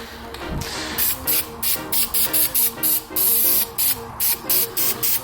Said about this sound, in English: I'm taking the windshield wipers off and I'm hitting them with a fresh coat of black paint here